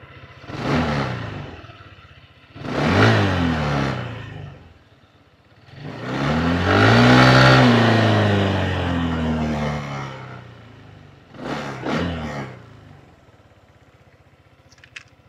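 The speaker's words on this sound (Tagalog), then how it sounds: "Stock exhaust." An FKM Venture 150 Ultimate adventure motorcycle on its stock exhaust revs up four times close by, each rising and falling burst of the engine separated by a settling idle, the longest rev drawn out in the middle.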